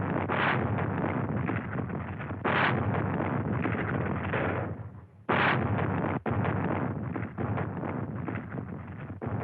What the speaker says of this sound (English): Allied warships trained their heavy guns on the German coastal defenses